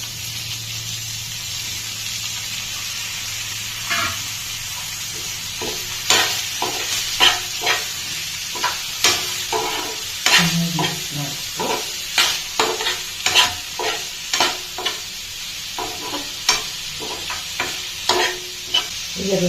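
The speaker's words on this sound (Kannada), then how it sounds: "ಈಗ ನೋಡಿ ಮಶ್ರೂಮನ್ನು ಹಾಕ್ತಾಯಿದ್ದೀನಿ." Mushrooms tumble into a hot pan for a mushroom pepper fry and sizzle steadily, with repeated clacks of stirring and tossing growing busier after the first few seconds.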